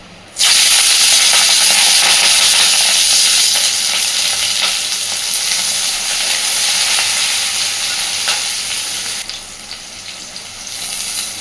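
Chopped onion and green chili hit very hot oil in a pan, bursting into a loud, dense sizzle that hisses steadily for several seconds before easing slightly toward the end.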